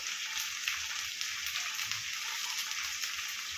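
Okra frying in oil with ginger paste, green chili paste, turmeric, chili powder and salt makes a dense, even sizzle, close and continuous with faint crackles, with no voices.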